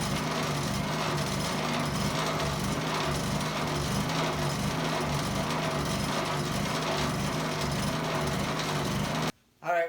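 A Honda EU2000i inverter generator with a freshly cleaned carburetor idles up close in a steady, even drone, cutting off abruptly just before the end.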